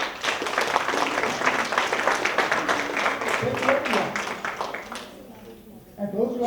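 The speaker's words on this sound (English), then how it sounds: "let's begin by giving a big round of applause to our volunteers" Classroom of high school psychology students applauding volunteers, a dense steady patter of clapping lasting several seconds before tapering off, with a voice speaking briefly at the end.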